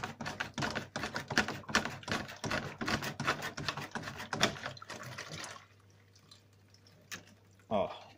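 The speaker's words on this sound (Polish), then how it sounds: "Trzeba poczekać, aż woda zleci" Water from a 720-litre aquarium drains through a hose with a steady splashing, gurgling rush for about five seconds, then drops to a faint trickle with a few soft drips and a brief louder splash near the end.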